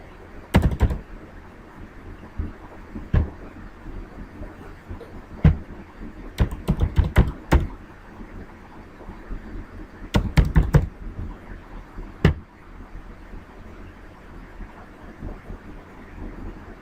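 Computer keyboard typing while logging in to a domain and hosting account: scattered bursts of quick clicky keystrokes, some clustered in fast runs, separated by quiet pauses.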